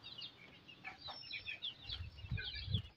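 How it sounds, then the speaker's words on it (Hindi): An Aseel hen clucks softly with faint chick peeps, a quiet close-up farmyard sound in a few short bursts, with a couple of low thumps near the end. "तो ये देखें, दो चूज़े बाहर भी निकल आए।"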